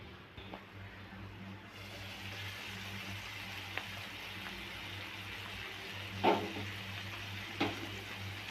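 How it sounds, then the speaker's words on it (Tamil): Tamil keerai thokku made with siru keerai bubbles and sizzles softly in oil in a pan, a low steady simmer with occasional faint pops. "இப்போ வந்து தொக்கு ஒரு 10 நிமிஷமாக கொதிச்சுக்கிட்டு இருக்கு."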